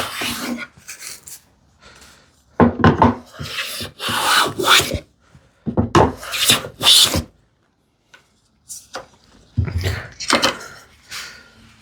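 A hand plane shaves wood on a thicknessing jig for hand-tool woodworking, giving several rasping strokes that come in close bursts with short pauses between them.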